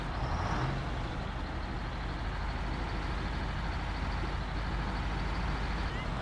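A big truck in the off-road driving game Snowrunner gives a steady, loud, low engine rumble and drivetrain drone throughout, with a brief hiss near the start.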